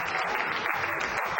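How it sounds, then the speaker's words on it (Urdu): Sustained applause from the audience at an Urdu poetry gathering (mushaira), a thick, even patter of many hands filling the whole moment without a break. "تالیوں سے آپ استقبال کیجیے"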